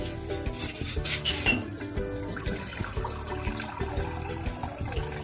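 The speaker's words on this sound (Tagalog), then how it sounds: "Tapos hahaluan natin siya ng water." Bilo bilo flour is mixed with water in a bowl, giving close clattering of a utensil against the bowl with wet scraping and sloshing, steady and continuous.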